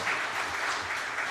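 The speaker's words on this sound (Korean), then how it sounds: "박수로 크게 격려해 주시기 바랍니다." A church congregation applauds at a Sunday worship service in steady, dense clapping that fills the room and stays even and sustained throughout, with no voices over it.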